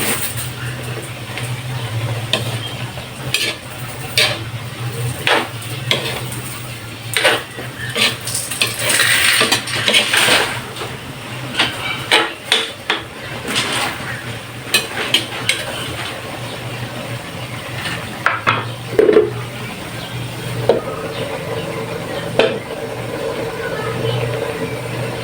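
Pork and string beans simmer in coconut milk while a spoon stirs the pot, giving repeated scraping and clinking strokes over a soft bubbling background, fairly close.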